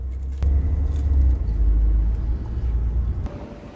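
A bus carrying passengers to a hotel in Medina gives off a steady low engine and road rumble from the inside, heard alone over a few seconds before it eases off.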